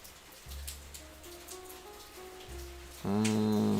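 Steady rain patters throughout, layered under soft lo-fi music with sustained tones, which swells louder in the final second.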